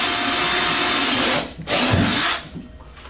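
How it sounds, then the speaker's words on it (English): A power drill whines loudly in two bursts separated by a brief pause, close up. "I'm gonna go ahead and drill my hole."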